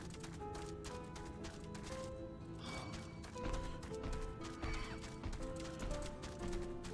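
A mount ridden in Final Fantasy XIV, with steady galloping hoofbeats and a neighing horse close by, over a constant game background.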